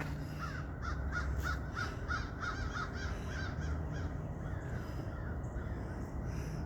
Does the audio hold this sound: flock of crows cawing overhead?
yes